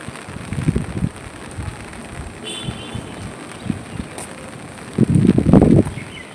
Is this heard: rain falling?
yes